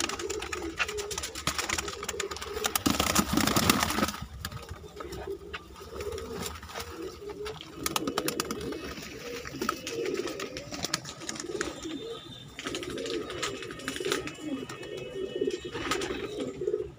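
Madrasi pigeons with crested heads coo in a steady low murmur throughout, with a louder burst of flapping or shuffling early on and soft rustling in between.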